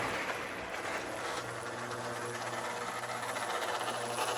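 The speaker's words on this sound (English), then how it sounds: "these old K-Line dual motor locomotives are a bit noisy" A K-Line dual-motor O27 model locomotive running slowly on a layout gives a steady, faint, even whirring hum with hiss and no pauses.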